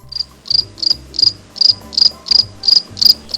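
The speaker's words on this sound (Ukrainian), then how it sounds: "На початку літа цвіркотить цвіркун." A cricket chirping in early summer, bright pulsed trills repeating about three times a second in an even, steady rhythm, close and clear against a quiet low background.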